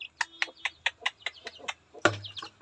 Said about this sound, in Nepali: हेर्नुहोस् है कुखुरा